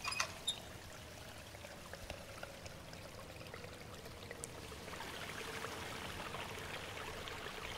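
Flowing water in the puzzle game Riven, a soft steady pouring trickle, faint and unbroken, swelling slightly in the second half with no voices.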